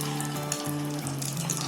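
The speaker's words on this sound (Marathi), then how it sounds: "तेलामध्ये जेवढे बसतील ना तेवढे सोडायचे." Snack pieces frying in hot oil for a breakfast snack, a steady crackling sizzle with soft watery bubbling, close and continuous, no voices.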